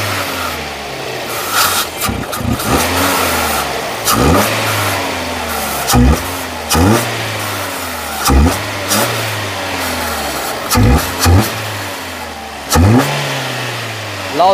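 A Hyundai Grand i10 Nios engine idles steadily during a throttle body cleaning, with about eight light blips of the throttle that each rise and fall quickly, loud and close.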